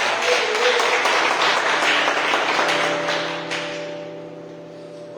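Church congregation applauding during a morning service, sustained clapping that swells then gradually thins and fades over five seconds as a steady organ-like tone lingers beneath.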